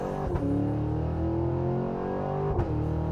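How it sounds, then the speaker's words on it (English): A supercharged 2023 Cadillac Escalade-V under launch-control acceleration: a steady, loud engine drone rising gradually in pitch with two brief upshift breaks, heard from inside the cabin with no talking. "that was just launch control in the Cadillac Escalade-V"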